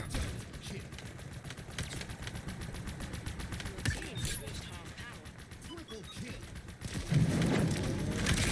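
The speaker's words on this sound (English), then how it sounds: "Just register the freaking shots that I'm firing" Rapid automatic gunfire from the Halo Infinite video game during a Big Team Battle match chatters almost without a break, with faint metallic ticks and a louder rumbling burst near the end.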